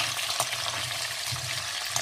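Sausages and carrots fry in a pan with a soft, steady sizzle, faint and continuous, broken by a couple of quick stirring scrapes.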